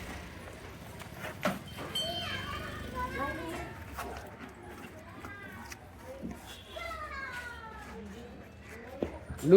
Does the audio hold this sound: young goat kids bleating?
yes